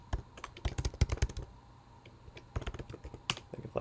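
Quick bursts of keystrokes on a computer keyboard as terminal commands are typed, close and clear, with a short pause in the middle before a second run of clicky taps; no talking.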